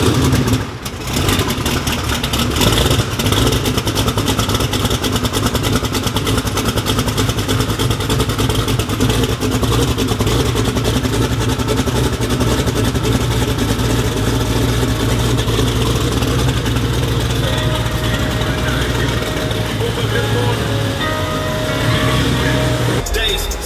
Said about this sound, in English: Can you turn the truck on?